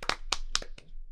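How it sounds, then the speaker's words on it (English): A few sharp, separate hand claps, about four in just over a second, close and fairly quiet, with a slightly uneven rhythm and short gaps between them. "I want to give a round of applause for PFT's amazing performance on College Gameday"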